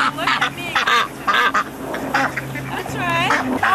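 Ducks quacking at a park, a run of harmonic nasal calls repeated through the moment, loud and close, mixed with a child's and adults' voices talking nearby.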